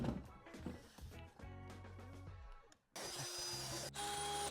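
A power drill countersinks screw holes in wood for a kids' patio chair, first a whining motor tone, then a louder, rougher grinding burst as the bit bites in.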